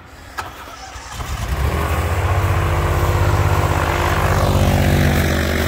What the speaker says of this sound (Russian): для вас делаем замеры на винте, заводим лодку